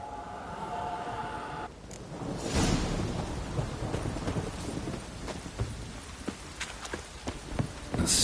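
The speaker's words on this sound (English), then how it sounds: "A storm, damn it." A storm in the video game The Witcher 3: Wild Hunt roars with heavy rain and a deep rumble of thunder, a dense steady wash of noise swelling after a quieter opening.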